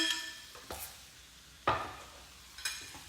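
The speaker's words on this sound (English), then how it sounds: "Now we're going to let this sizzle down for the next about 3 minutes." Short bursts of lobster sizzling and being stirred in hot butter in a pan, a few sharp scrapes spaced apart, fairly close and moderately loud.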